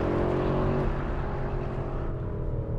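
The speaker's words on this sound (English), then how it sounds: "Standard Porsche launch control procedure." Porsche Cayenne Turbo GT launching under launch control, a loud, dense engine roar held steady then slowly fading as the SUV accelerates away, heard from inside without talking.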